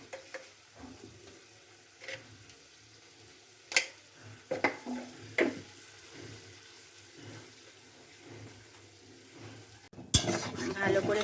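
Potatoes are sautéed with spices in a pan: scattered spatula scrapes and stirring knocks over a soft sizzle, then a sudden louder burst of sizzling at the end.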